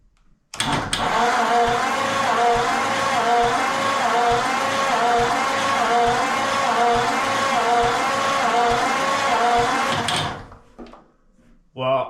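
A 1940 Ford engine cranks steadily on the starter for about ten seconds during a cylinder compression test, giving a loud, even, rhythmic churn that stops abruptly before a short quiet tail.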